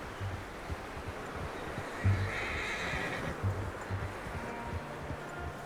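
A horse in Red Dead Redemption 2 gives a close neigh over a dense outdoor ambience, with a few soft hoof clops and snorts scattered through the clip.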